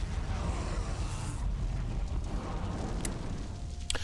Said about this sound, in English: On my command, fire the Titan cannon.